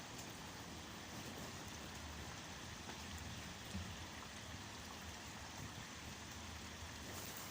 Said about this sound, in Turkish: çok dolu, çok kötü yağıyor